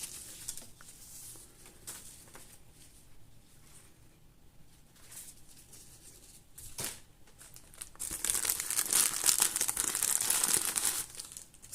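Saved Christmas wrapping paper being crumpled and crinkled, soft scattered rustling at first that swells into a louder, dense crackle near the end, close by with no voices.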